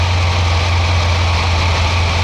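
A 1969 Volkswagen Baja's air-cooled engine idles with a dual quiet pack exhaust, giving a steady, close, loud low drone with a constant rumble and no voices.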